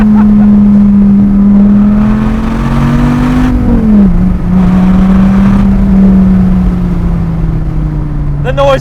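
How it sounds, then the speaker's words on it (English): Loud, sustained drone of a 2008 Dodge Viper ACR engine heard through its side exhausts, holding a low steady tone that rises slightly, then dips and settles while cruising, with a voice faintly underneath. "The noise is just right here. Oh, side exhausts are awesome."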